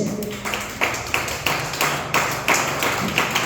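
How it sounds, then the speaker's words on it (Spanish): Church congregation applauding, a rhythmic series of distinct claps at a steady beat of roughly three per second, close and fairly loud, with a low murmur beneath. "Ahora denle un aplauso a Dios."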